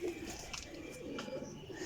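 Pigeons cooing softly in a loft of storm-caught birds, low murmuring calls blending into a steady faint background hum, with no voices.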